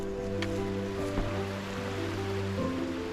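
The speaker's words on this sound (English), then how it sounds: "The river's down there, I can hear it" A river flows through mountain forest as a steady rushing wash, moderately distant, with a low continuous hum and occasional faint knocks layered over the water.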